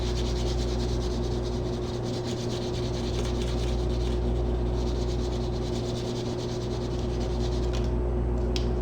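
Crayon rubbing back and forth on paper while a child's crab drawing is colored in, a steady close scratchy rasp running without pause under a low constant background hum, no talking.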